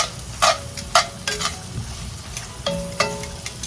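Four sprigs of thyme are stirred into rasta pasta in a pan, with a soft background sizzle and several distinct spoon knocks against the pan at uneven intervals, close and moderately loud.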